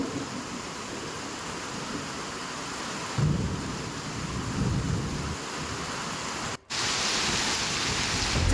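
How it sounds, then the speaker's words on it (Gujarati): Heavy downpour over rural villages in Maliahatina taluka, Junagadh, Gujarat, a steady dense roar of rain with low rumbling thunder swelling through it, continuous and fairly loud throughout with a brief dropout near the end. "જૂનાગઢના માળિયાહાટીના તાલુકાના ગ્રામ્ય પંથકમાં ધોધમાર વરસાદ।"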